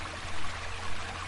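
Steady river stream flowing at low level as a background sound effect in an Indonesian radio drama, a soft continuous wash of water without talk.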